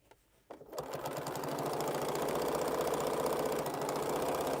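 A sewing machine runs steadily after a brief quiet start, stitching at an even, fast rhythm through fabric for a bowl experiment made from fabric tube rug material, close and loud with no voices.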